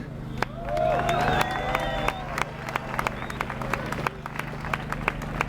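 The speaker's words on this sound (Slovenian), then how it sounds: "en aplavz za njih" Audience at an outdoor public rally for Radio Študent bursts into scattered clapping with whistles and cheers, building quickly and fading into sparse claps under a low steady hum and crowd murmur.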